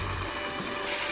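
Gyoza steaming in a covered frying pan give off a steady, soft bubbling and sizzling hiss that holds level throughout, with no voices.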